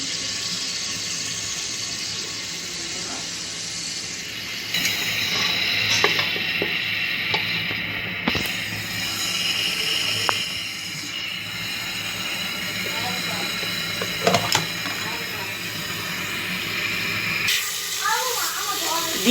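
Chopped onions go into a hot pan for a cooking recipe and sizzle with a steady, broad hiss, while a person talks over it.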